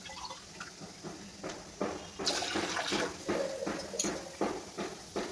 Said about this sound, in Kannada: ಅರ್ಧ ಗ್ಲಾಸ್ ಮೂರು ಗ್ಲಾಸ್ ನೀರು ಹಾಕಬೇಕು ದೊಡ್ಡ ಗ್ಲಾಸಲ್ಲಿ